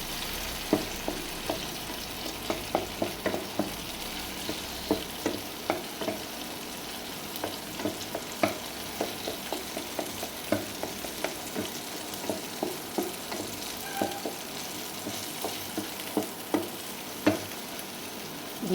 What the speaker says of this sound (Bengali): ভেজে নিয়ে আমি ভুজিয়া করে নেব।